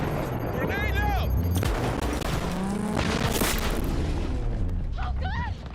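Gunfire and a grenade blast in the video game Cyberpunk 2077, loud and continuous with dense bursts and booms throughout, along with game voices and tonal effects.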